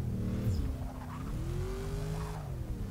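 Race car engine in the Forza Motorsport 6 video game, a steady droning note that dips and then climbs as the car accelerates, continuous throughout with faint tire noise underneath.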